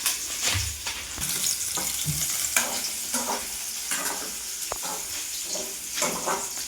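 Onions for upma sizzle in a hot pan, a constant bright hiss broken by irregular scraping stirs, close and moderately loud, with no speech.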